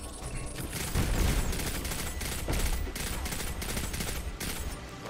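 Grenade blast and gunfire in the video game Destiny: rapid volleys of shots with a couple of heavier booming thumps, moderately loud and continuous, with a voice briefly in the mix.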